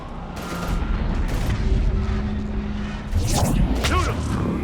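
Gunfire in the Mass Effect 3 battle on the way to the Normandy against husks, heard as dense bursts of shots and booms layered with combat noise, with voices calling out over the fighting.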